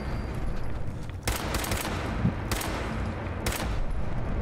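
Rapid bursts of gunfire in Fallout 4 against a swarm of ghouls, three loud volleys spaced about a second apart over a constant dense background of game noise.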